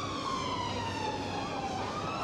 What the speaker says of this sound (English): See an ambulance just rushing away.